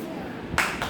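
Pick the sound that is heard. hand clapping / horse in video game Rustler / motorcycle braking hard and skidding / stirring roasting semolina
hand clapping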